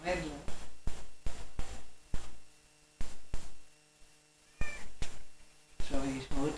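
A cat yowls and meows repeatedly in drawn-out, wavering cries, close by, with short pauses between calls and some human voices mixed in.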